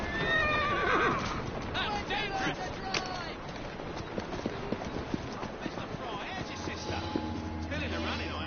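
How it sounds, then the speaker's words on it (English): A horse in Assassin's Creed Syndicate gives a loud whinny at the start, then hooves clip-clop steadily while other game sounds play underneath. "Who's a good horse?"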